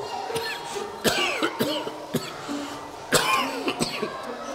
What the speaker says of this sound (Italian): Scusate, questa tosse se ne vuole proprio andare.